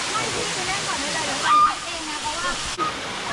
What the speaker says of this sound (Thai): เป็นน้ำตกที่ไหลลงชั้นหินนะฮะสวยมากครับ